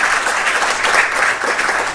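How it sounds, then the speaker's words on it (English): Steady applause from the audience at a research institute's annual meeting, given for Noguchi, with dense even clapping throughout at moderate volume. "let's give a hand of applause to Noguchi"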